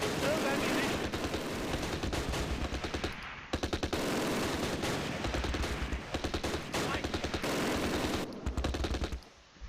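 MG42 machine gun bursts in the Close Combat: Last Stand Arnhem wartime game, loud sustained rattling volleys with brief gaps, mixed with scattered gunshots and explosions throughout.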